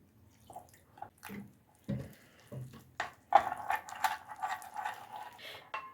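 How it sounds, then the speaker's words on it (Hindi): Water poured into a bowl of maida flour to mix a slurry for coating aloo chicken tikka kababs, heard as quiet, intermittent pours and splashes with short pauses between them. "अब इसमें थोड़ा सा पानी डालकर इसकी स्लरी सी तैयार कर लें"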